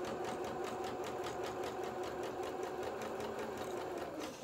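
A sewing machine stitches one side of a pair of culottes in a fast, steady mechanical chatter, close and continuous, with no talking.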